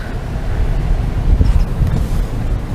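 Steady, rumbling wind from a storm on a beach buffets the microphone, a low continuous roar that swells slightly midway with no voices.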